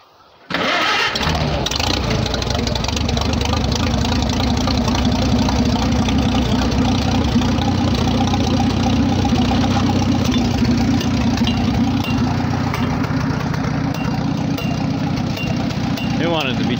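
A Farmall H tractor engine that has trouble starting and needs choking catches abruptly, then runs loud and steady at a rough idle, close and continuous to the end.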